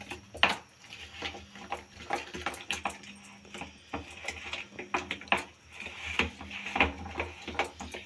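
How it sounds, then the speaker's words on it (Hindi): Black chickpea roti batter being stirred with a spoonful of cooking oil in a bowl, giving soft irregular scraping and clinking with wet squelches, fairly close and steady for several seconds, no talking. "अच्छी तरह से इसे मिक्स करेंगे"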